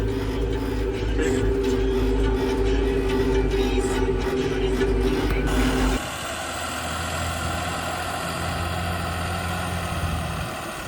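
A John Deere 5075E tractor engine runs at a steady loud drone, then drops abruptly partway through to a lower, quieter hum, with no one talking.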